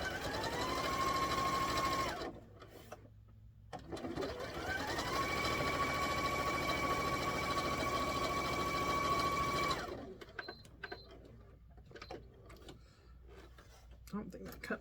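Home sewing machine with a 1/4 inch foot stitching a red, white and blue quilt top, running in two long, even, close-up whirring runs separated by a short pause, then quieter handling clicks.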